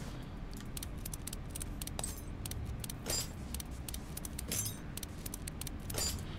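Parts of the exhaust being taken off in Car Mechanic Simulator 2014, heard as quick metallic clicks and rattles, jangly and a little irregular, over a low steady background hum with no talking.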